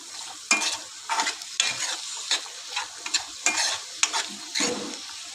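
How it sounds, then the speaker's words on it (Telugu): Capsicum pieces and spices frying in hot oil while being stirred in a pan, with a steady close sizzle and repeated scraping stirs throughout. "కొంచెము ఈ స్పైసెస్ అనేది ఆయిల్లో ఫ్రై చేస్తే మంచిగా ముక్కలకు మసాలా అనేది అంటుకుంటుంది."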